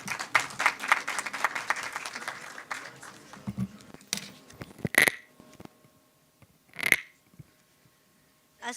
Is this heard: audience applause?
yes